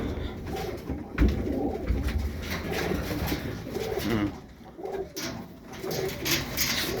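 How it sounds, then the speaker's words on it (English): Birmingham Roller pigeons cooing steadily inside a loft, a continuous layered murmur of soft coos from several birds close by, with faint rustling and no talking. "some really good pigeons in here"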